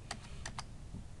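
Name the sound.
typing on a computer keyboard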